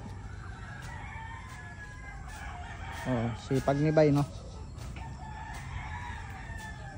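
Roosters crow at a backyard chicken farm, one loud nearby crow rising in the middle over a steady outdoor hum, with fainter crowing from farther birds and people talking quietly around it.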